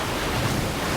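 Rushing water in Metal Gear Solid 2 surges as a broad, steady roar of waves and spray, loud and continuous through the brief moment with no voices.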